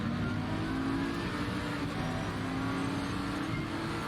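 Race cars thunder off the start at Spa-Francorchamps in a racing video game, a dense, steady roar of many engines at full throttle, loud and continuous throughout with no talking.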